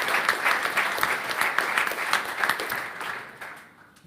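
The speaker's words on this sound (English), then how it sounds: "Warm applause for Markus." Warm applause from the audience at a panel discussion on the Facebook Libra token, steady crowd clapping that fades out over the last second.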